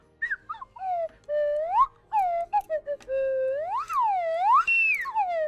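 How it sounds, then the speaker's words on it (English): A slide whistle played up close in a quiet room, with a series of short and long gliding tones sweeping up and down, separated by brief pauses and ending in longer rising and falling swoops. "Welcome to my ASMR slide whistle."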